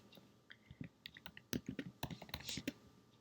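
Quick, irregular clicks of a computer keyboard as a name is typed into a PowerPoint text box, with keystrokes close and crisp in short bursts.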